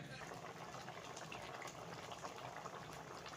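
Liquid pouring steadily into a pressure cooker, a continuous watery rush with bubbling underneath, close by and fairly quiet.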